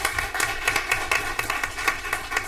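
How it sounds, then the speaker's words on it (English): Small audience applauding a student of the month, scattered clapping with uneven individual claps in a loose pattern, fairly faint and with no one talking over it. "Let's all give Quentin a round of applause."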